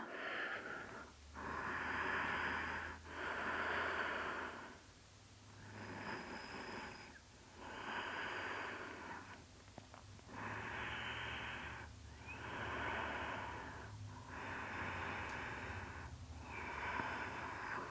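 Slow, deep breaths during a yoga stretch, close and airy, long inhales and exhales alternating in an even rhythm with short gaps between, no talking.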